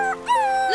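A dingo's high, wavering whimpers and a drawn-out howl-like whine, close and fairly loud, with a brief dip partway through.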